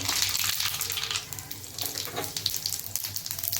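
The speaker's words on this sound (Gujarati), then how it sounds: "આપણું તેલ ગરમ થઈ ગયું છે. આપણે હવે રાઈ મેથી નાખશું, જીરું" Mustard seeds, fenugreek and cumin sizzle in hot oil, a close, crackly hiss with uneven bursts of popping that fades slightly toward the end.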